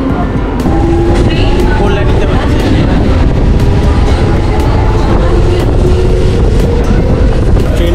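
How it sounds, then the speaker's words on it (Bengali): A local train pulls out of Liluah station on the Howrah–Konnagar route, its steady low rumble and rattling cars running loud and continuous, with wind buffeting the microphone throughout. "ট্রেন এখন লিলুয়া ছাড়লো"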